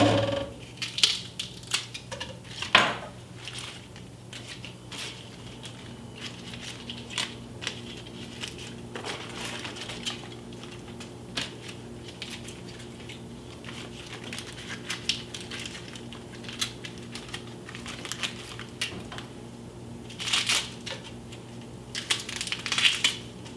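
A knife slices through rolled-up collard green leaves on a board, giving repeated crisp, crunchy cuts at an uneven pace, close and fairly quiet, with no talking.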